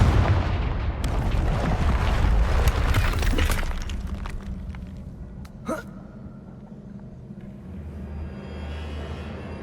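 A Confringo blasting spell explodes in Hogwarts Legacy, a heavy booming rumble with crackling debris that swells, then fades into quieter low ambience with a brief sharp impact midway.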